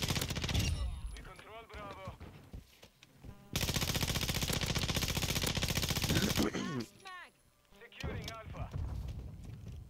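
Rapid sustained bursts of ISO 45 SMG fire in Call of Duty multiplayer, a loud continuous automatic string in the middle with shorter bursts around it, alongside a player talking and game voice callouts.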